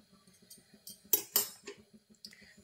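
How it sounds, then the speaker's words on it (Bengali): A spoon stirring sugar into thickened milk in a glass or pot for a custard milkshake: a quiet, rhythmic run of light metallic clinks and taps, with a couple of sharper, louder strikes in the middle. "চিনিটা খুব ভালোভাবে মিলিয়ে নিচ্ছি দুধটার সাথে"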